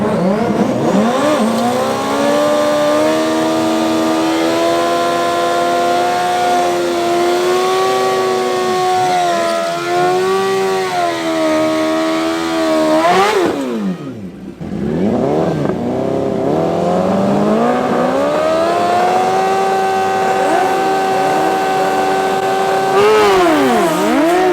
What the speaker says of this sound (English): Next up is Rahul and Dion on the turbo bike in the right lane.